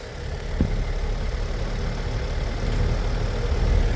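A Lexus LX600 twin-turbo engine idles in a steady, close, low rumble with a slight vibration and no talking.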